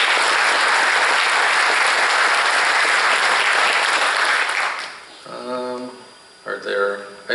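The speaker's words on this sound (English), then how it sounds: "So please join me in giving all of these honored guests a warm round of applause." Warm applause from a theater audience at Mountain House High School, a dense steady clapping that holds loud for about five seconds, then breaks off into someone speaking over a few scattered claps.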